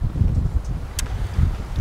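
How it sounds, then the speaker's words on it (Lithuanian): Wind at about six metres per second buffets the microphone outdoors in low, uneven gusts, with a brief rustle partway through and no talking. "vėjas yra pas mane 6 metrai per sekundę"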